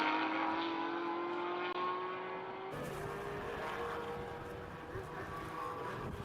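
GT race cars lapping the Aragón circuit in a winter series round, one engine note rising steadily as a car passes, then a broader rumble of traffic, moderately loud with a commentator talking over it.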